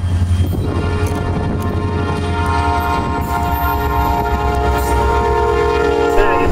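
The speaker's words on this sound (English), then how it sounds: "an empty cane train was coming up this way and was to pass our crossing" An empty U.S. Sugar cane train passes a crossing, led by a Jeep locomotive, its horn sounding steadily and loud over the continuous rumble and clatter of the wagons rolling by close up.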